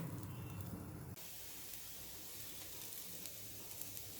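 A coriander and semolina mixture roasts in a covered pan, giving a quiet steady sizzle and hiss that drops in level after a second or so, with faint crackles and no talk.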